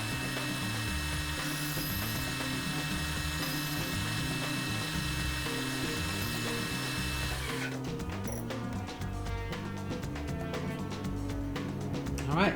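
A steady mechanical whirring and grinding rumbles throughout. Partway in, a harsher rattling, chattering texture joins like a drill biting into material.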